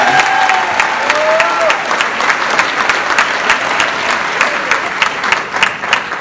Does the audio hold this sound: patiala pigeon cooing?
no